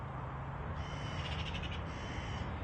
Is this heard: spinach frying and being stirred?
no